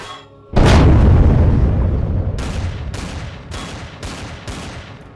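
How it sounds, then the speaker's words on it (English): A deep, loud explosion booms in the Empyrion Galactic Survival video game, followed by a rumbling tail and a rapid series of four or five sharper blasts. "Many explosions."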